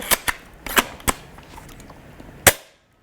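A Maple Leaf MLC-338 airsoft sniper rifle cocked and fired: sharp, close mechanical clacks of the bolt in an uneven run, then one louder crisp shot near the end before it goes quiet.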